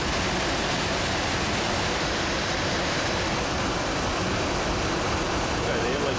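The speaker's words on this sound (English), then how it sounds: "the unit is started. And we're going to watch the inlet guide vanes open" An IntelliPak rooftop HVAC unit runs as its inlet guide vanes open, giving a loud, steady, unbroken rush of air and machinery noise from start to finish.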